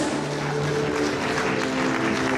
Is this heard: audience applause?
yes